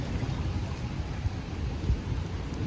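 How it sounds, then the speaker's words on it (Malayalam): Steady heavy rain in Singapore pours down as a continuous dense wash, with low rumbling thunder beneath it and no voices. "മഴ മാറിയോ എന്ന് ചോദിച്ചാൽ മാറിയിട്ടില്ല."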